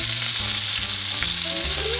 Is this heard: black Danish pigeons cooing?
no